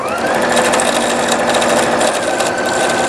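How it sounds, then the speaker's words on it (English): Singer Futura Quintet sewing machine stitching fabric scraps at high speed, a loud continuous whir with a buzzy, rattling edge from the bobbin area, close up and steady throughout with no voices. "now when I go fast, it's making the rattling noise."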